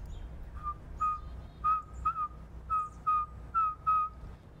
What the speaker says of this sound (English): These little saw-whet owls have a very, very cute, unique call.